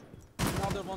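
Gunfire from Amaru's weapon in Rainbow Six Siege, a sudden loud burst of shots that starts partway through and carries on to the end, with a voice beneath it.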